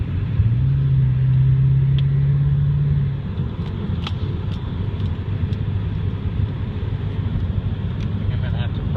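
Steady low engine rumble and road noise inside a 2001 Ford F250 pickup truck fitted with extensive sound damping, accelerating toward 55 mph, with a drone that rises briefly early on and then settles.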